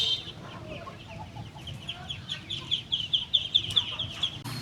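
Chickens for sale at a traditional Vietnamese market along the Red River in northern Vietnam, clucking in a steady run of short repeated calls that grow busier toward the end, over a dense background of market noise.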